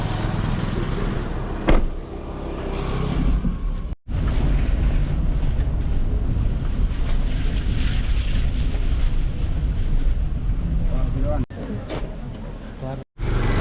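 Strong storm wind in Jaffna, with light rain, buffets the microphone in a constant roar over outdoor ambience, briefly cutting out a few times.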